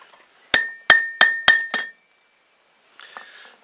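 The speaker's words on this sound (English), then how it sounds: "pound that into shape when it's hot" A hammer strikes a hot steel awl on an anvil five times in quick succession, each blow a sharp ringing clang, followed by silence and a faint clink.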